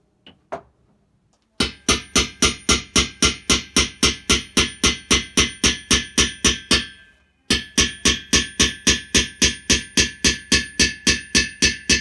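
Rapid, evenly spaced metallic hammer strikes ringing on steel as a punch is hammered into a steel drum, two long runs of sharp blows separated by a brief pause, loud and close.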